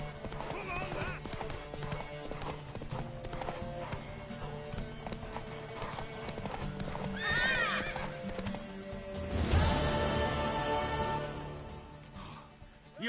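Horse hooves in The Witcher 3 video game, a rhythmic clip-clop of a galloping horse with a whinny and a loud surge near the end, partly under game voices and music.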